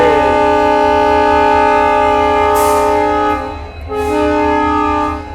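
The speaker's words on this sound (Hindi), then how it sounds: "सुकून मिलता है डीजल वाला साउंड सुन के" A diesel train running on an Indian Railways journey from Hazur Sahib Nanded to Delhi gives a loud, steady droning tone with a layered, horn-like pitch. The drone dips briefly partway through, then returns at full strength.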